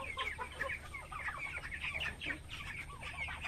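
A flock of broiler chickens clucking and murmuring continuously, many overlapping calls at moderate distance over a low steady background hum.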